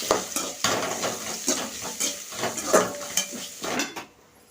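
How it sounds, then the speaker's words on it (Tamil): Masala and two sprigs of curry leaves sauté until golden in a pan, with a spatula scraping and clattering in steady strokes over a soft frying sizzle, close and clear, before an abrupt stop. "ரெண்டு கொத்து கருவேப்பில் வந்து சேர்த்துக்கலாம் இப்போ இதனால் வந்து பொன்னிறமாக வதக்கிப்போம்"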